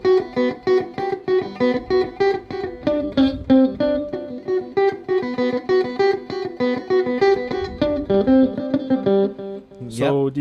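Rapid, steady repeated notes ring out loud and close through a small Vox tube amp with tape echo engaged, the echoes blurring the note edges, before a short voice cuts in near the end.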